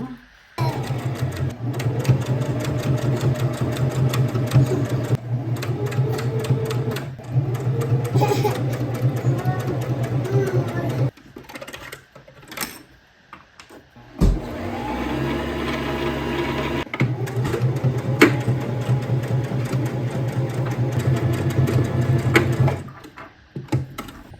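Sewing machine stitching a toddler's Christmas top, running in long steady rapid bursts broken by short pauses and fabric handling, close and fairly loud, with brief quiet stretches in between.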